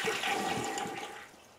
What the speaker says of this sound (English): It flushed twice, and you heard it this time.